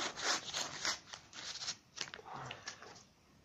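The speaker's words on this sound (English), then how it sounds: "I'm cutting into it with my knife" Everyday-carry knife slicing into an MRE fruit pouch, a faint close scratchy rasp and crinkle of plastic in short strokes, quiet overall.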